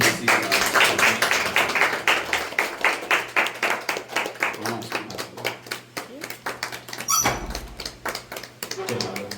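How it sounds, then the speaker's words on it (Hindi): Rhythmic hand clapping from a church congregation giving thanks at a gathering in Ranchi, Jharkhand, a steady run of sharp claps throughout with a voice talking over it. "परमेश्वर का धन्यवाद करते हुए ताली बजाएंगे"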